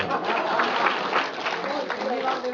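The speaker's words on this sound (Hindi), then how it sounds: "जोरदार तालियां बजाओ" A crowd applauds at a Kavi Sammelan poetry gathering, with steady clapping throughout and some chuckles and voices mixed in.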